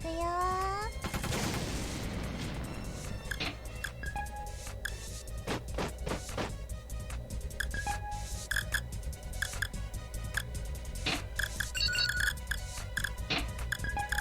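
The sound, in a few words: tank units firing guns in a video game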